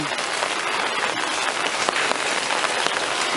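Heavy rain drums down at home during the rainy season, producing a loud, close, constant wash of patter with slight swells and no speech.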